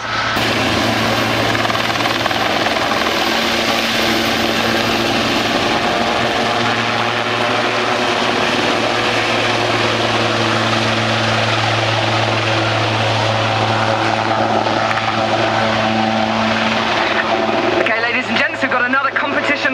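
A Royal New Zealand Air Force Seasprite helicopter performs a winching display at an airshow at Ohakea, its steady rotor and engine drone loud and continuous throughout, with a commentator talking over it.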